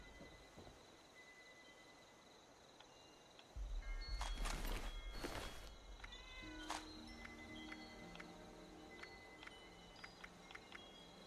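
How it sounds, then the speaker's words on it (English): A cat meows several times inside the video game Fallout 76, short tonal calls fairly close over a quiet game ambience with a brief rumbling burst early on. "I heard a cat."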